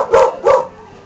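A dog barks in Mario Sports Mix basketball, two quick loud barks close together, then a brief quiet tail.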